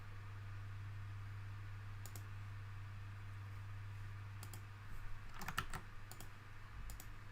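Typing on a computer keyboard while entering numbers into a SwiftUI playground: a few scattered key clicks, then a short burst of quicker taps near the end, faint over a steady low fan hum.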